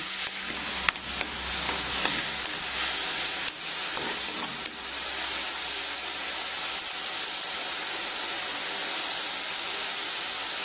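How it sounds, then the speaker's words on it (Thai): Steady sizzling and frying as chili paste with minced pork is stir-fried in a hot pan, with occasional stirring clatter and a continuous loud hiss throughout. "เดี๋ยวเราจะ ทำการผัดน้ำพริก"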